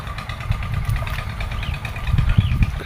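A Voltron engine drives a water pump irrigating a farm field, running with a steady, rough mid-pitched chugging rumble close by, with no talk.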